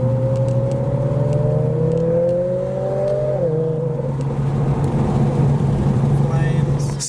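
A loud Mitsubishi Evo drives nearby on the way into the Santa Pod car show, its engine droning steadily and its pitch shifting as it changes speed, under someone talking throughout.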